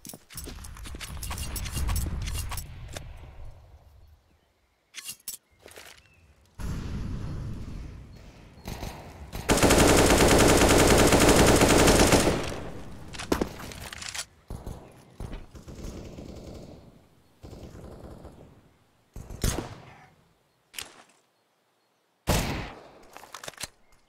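Pistol gunfire rings out during a Counter-Strike match on the Inferno map, sharp bursts of shots and clattering effects broken by silent gaps, including a dense sustained stretch of rapid fire, with no talk.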